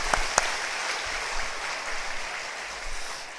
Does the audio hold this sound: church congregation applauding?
yes